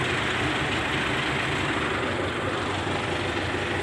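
An MTZ-82 tractor pulling away to disc wheat stubble, its diesel engine a loud, steady, close rumble with dense broadband clatter and no voices.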